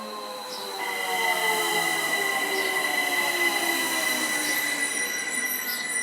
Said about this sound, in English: This will be my train to Ems Werk, an ABE 416 Allegra.